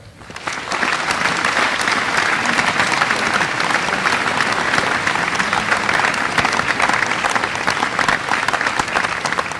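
Sustained audience applause at the 2014 Gilman valedictory ceremony, welcoming the valedictorian to the podium; dense, steady clapping from a large crowd that starts abruptly and holds evenly loud throughout.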